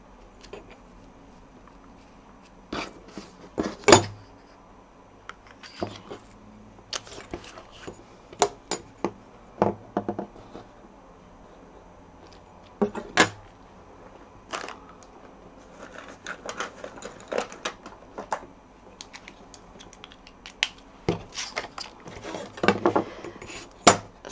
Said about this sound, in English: So now I'm going to cut a piece.